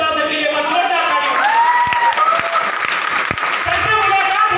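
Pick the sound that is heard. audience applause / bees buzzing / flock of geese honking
audience applause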